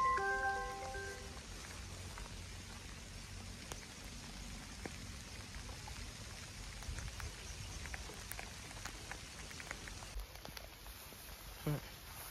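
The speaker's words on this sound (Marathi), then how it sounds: "आला पाऊस आला, भिजलो आपण." Rain patters steadily on a forest, a soft, continuous hiss of drops with scattered louder ticks. A few faint tones come early and a brief sound near the end, with no clear speech.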